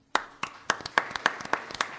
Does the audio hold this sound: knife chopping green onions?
no